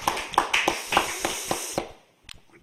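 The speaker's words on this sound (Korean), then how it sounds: "우리 하나님께 우리 영광의 박수 올려드리겠습니다." A church congregation at a Sunday afternoon service claps in a short burst of sharp, rhythmic applause that stops abruptly, leaving a brief quiet before a few faint taps.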